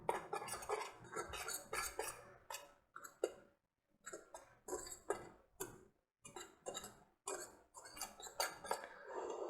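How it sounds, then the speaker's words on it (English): A whisk clinks rhythmically against a bowl while baking powder and salt are mixed into muffin dry ingredients, a quick run of light taps in bursts with a brief pause midway, close and fairly quiet. "Now slightly whisk it so it's fully mixed in."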